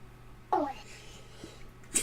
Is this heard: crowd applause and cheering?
no